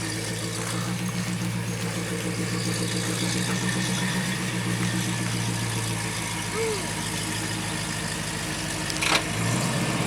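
A 1991 GMC Jimmy engine idles steadily and close by for the whole stretch, a constant low rumble with a faint rise near the end.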